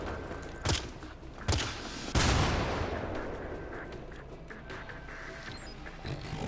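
Grenade explosions and gunfire in the video game Syndicate: three heavy booming blasts, the last one long and rumbling as it fades into a dull roar, followed by scattered lighter shots in the background.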